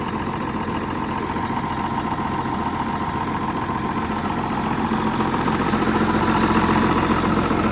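A tractor engine idles steadily with a constant low rumble and vibration, growing slightly louder toward the end.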